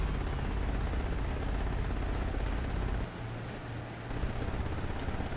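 Military planes battle in the combat video game BOMB, a dull, continuous engine roar with faint scattered bursts of gunfire, fairly quiet and steady throughout.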